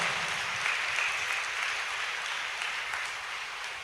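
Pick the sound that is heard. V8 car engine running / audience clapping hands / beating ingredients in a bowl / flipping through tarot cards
audience clapping hands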